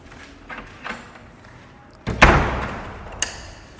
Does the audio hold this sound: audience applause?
no